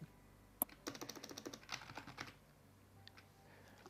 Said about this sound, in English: Okay, hold on. I'm just typing things in.